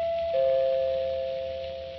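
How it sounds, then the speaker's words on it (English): A front doorbell in an old radio drama rings as a single steady electric buzz that starts sharply, holds for nearly two seconds and fades slightly, over a quiet background. "occupants of this dwelling, a Mrs. Anderson, is just answering the front doorbell."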